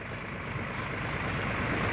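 Tractor engine running with a thresher attached, a steady close rumbling drone with a broad mechanical hiss throughout, no speech heard.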